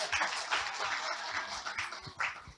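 Faint, distant audience clapping at a political discussion rises and falls in soft bursts for a couple of seconds, with a low murmur beneath.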